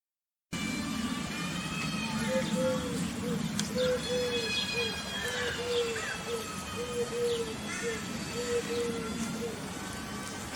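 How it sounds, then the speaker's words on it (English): Eurasian collared dove cooing outdoors in a steady, repeated series of soft low coos, with a house sparrow chirping faintly in the background over a constant wash of ambient noise. "it's the Eurasian collared dove, and there's also a house sparrow in the background"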